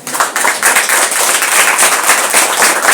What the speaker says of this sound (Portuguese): Posso pedir um aplauso para eles?